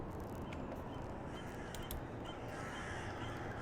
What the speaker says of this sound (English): Here come the majestic birds of the city.